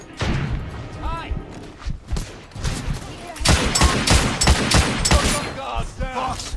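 Gunfire rattles through a firefight in The Order: 1886, with rapid bursts and heavy shots in quick succession, louder and denser in the second half, while voices shout over the action.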